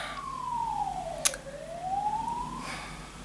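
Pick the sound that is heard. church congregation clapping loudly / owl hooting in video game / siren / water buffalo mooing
siren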